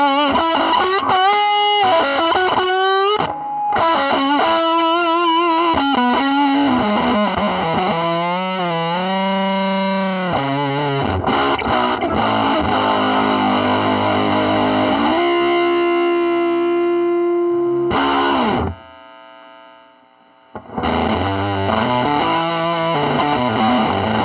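An electric guitar plays through a Rude Face fuzz pedal with the volume turned up, giving thick, distorted notes and chords with a few brief pauses between phrases.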